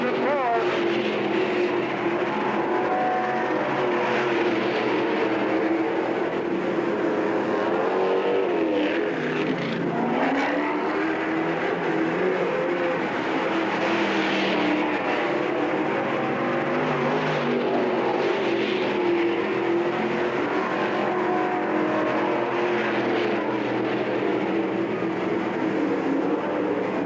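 Race cars lapping a small-town dirt speedway at a season-opening event, a continuous loud engine roar rising and falling as cars pass, with an announcer talking over it throughout.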